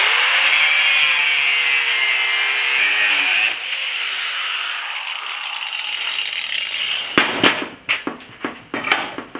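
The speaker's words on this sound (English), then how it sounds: "There's a little angle I need to put on the end here and cut off a little." A blacksmith cuts the angled end off a metal piece for a courting candle with a power tool, a loud high whine that drops in pitch and winds down, followed by a series of sharp, irregular clanks and knocks.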